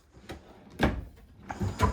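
Several quick drawer slides and knocks inside a 2026 Ahara 383UR camper, about three separate bumps spaced through a short, fairly quiet moment.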